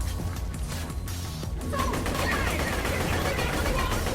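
Gunfire rattles in the Borderlands video game as a dense, continuous burst of rapid shots that grows louder partway through, with a player's voice talking over it.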